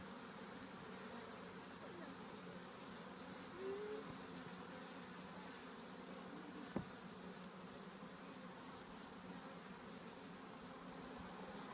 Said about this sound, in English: A big swarm right here.